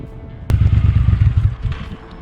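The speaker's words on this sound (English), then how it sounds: "clip here of Tim, that's TC and Thundercat, when he pulled up on my bobber after we'd just done a bike swap" A Triumph Bobber motorcycle rolls up nearby after a sharp click, its engine giving a low, throbbing rumble that pulses steadily and then eases off as the bike slows to a stop.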